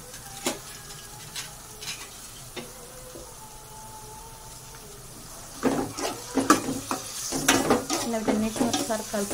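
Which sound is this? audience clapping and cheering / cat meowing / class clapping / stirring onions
stirring onions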